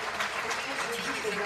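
Audience applause fills a conference amphitheatre during a speech, a steady, dense wash of clapping that holds at even loudness throughout the short moment.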